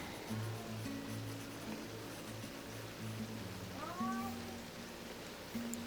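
A domestic cat meows softly several times in a quiet indoor room, with short, faint calls spread across the clip and a steady low background hiss.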